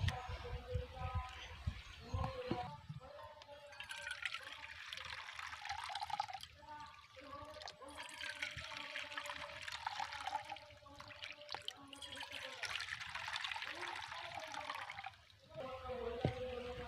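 Water is poured from a bowl into flour for papad dough, a soft, steady trickling pour that runs on and off, with a voice faintly in the background.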